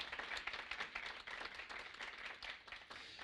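Audience applause at an innovation showcase presentation event, a faint, uneven patter of clapping from a modest crowd, heard from some distance throughout.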